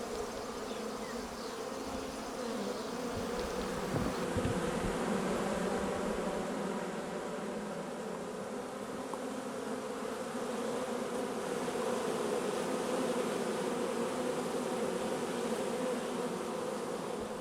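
Honey bees swarming around a beehive opened after winter, a dense steady buzz close by with many wings humming continuously and no voices.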